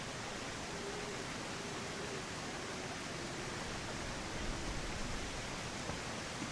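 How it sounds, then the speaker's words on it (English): A waterfall in the jungle survival game Green Hell, heard as a steady, broad rushing roar that fills the scene evenly from start to finish with no voices over it. "This sounds like a waterfall of sorts."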